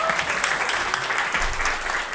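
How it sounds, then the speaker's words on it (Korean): Audience applause greeting an author at a talk concert for small business owners, a brief, steady burst of many hands clapping filling the room. "큰 박수로 함께 해주십시오"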